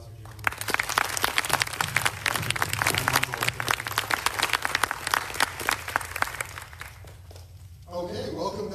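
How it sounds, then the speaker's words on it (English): An audience at a government space strategy event applauds steadily for several seconds, a dense wash of clapping that fades out near the end as a voice begins talking. "Can we get a round of applause for Jeremy?"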